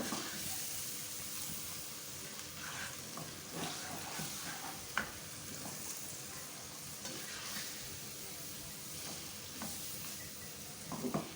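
Coarse mutton keema fries in a karahi with a low, steady sizzle and hiss, broken by occasional scrapes and knocks of stirring, close but soft.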